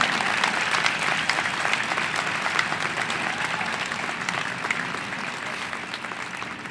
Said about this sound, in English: Please join me in applauding the accomplishment of our 2014 Wolfson Scholar, McKinzie Garrison.